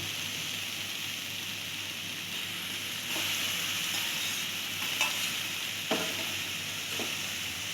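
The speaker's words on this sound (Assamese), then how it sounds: "এইখিনি এনেকৈ অলপ টাইম লৰাই ভাজি আছোঁ" Taro, potato and elephant apple (ou tenga) stir-fried in a pan, giving a steady close sizzle with a few scraping stirs of the spatula toward the end.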